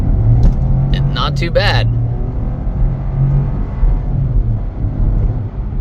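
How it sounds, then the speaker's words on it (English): A 2024 Buick Envista pulls flat out from a standstill, its engine droning steadily with a low rumble under the cabin as someone speaks briefly over it. "we'll do a pull here. All right, here we go. From a standstill, flat out."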